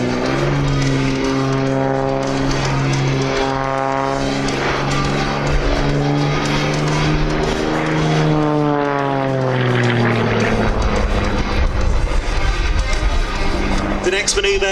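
An Xtreme Air aerobatic aircraft spins in flight, its loud propeller engine droning with sweeping pitch shifts that rise and fall, then gives way to rougher wind and engine roar near the end; a voice talks over it.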